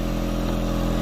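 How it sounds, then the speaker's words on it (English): The built-in compressor of an exhaust leak tester hums steadily and loudly at close range, a constant mechanical drone with a faint rhythmic pulsing. "this has its own compressor, and that noise is it building its own air pressure"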